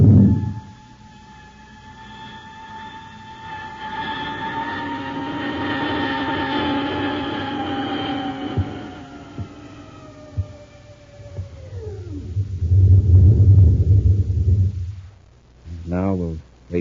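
Spaceship landing effect in an old-time radio science fiction drama: a loud sustained whine of several layered tones that slowly falls in pitch, then gives way to a heavy low rumble and a brief warbling electronic flourish.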